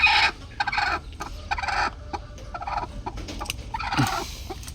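A White Kelso hen gives several close, raspy clucks and gobbling calls in short bursts, with a faint backyard hum underneath.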